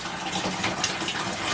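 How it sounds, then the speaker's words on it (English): Water gushes from a disconnected tap pipe into a bucket during a plumbing leak repair, a loud, steady rushing splash throughout the short stretch. "I'm just going to divert it down into the bucket and flush it through."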